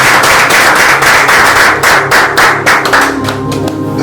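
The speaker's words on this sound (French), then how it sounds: "Acclamons pour le Seigneur." A church congregation claps in a fast, loud, rhythmic beat close by, the even sharp strikes carrying on for about four seconds before thinning out slightly.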